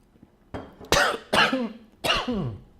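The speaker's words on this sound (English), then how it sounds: "I'm coughing myself to death on the stream." Three harsh, close coughs from a person, spaced about half a second apart, each a loud burst trailing into a raspy throaty tail, with quiet between them.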